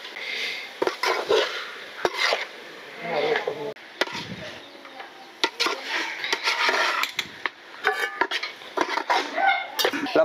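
A pot holding fried onions, coriander and mint for raw jackfruit biryani is stirred with a utensil, giving irregular scrapes and clinks against the metal, close and moderately loud, mixed with some faint background movement.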